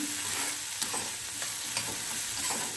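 Onions and red chillies fry in a pan with a steady, bright crackling sizzle, close and continuous, with a few light stirring scrapes punctuating it and no voices.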